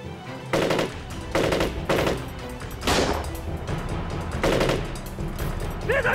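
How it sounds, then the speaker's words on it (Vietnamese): Gunfire in a shootout, repeated bursts of automatic fire in a steady stop-start rhythm across several seconds, loud and close with echoing tails. "Đừng bắn trúng Đơn Hải."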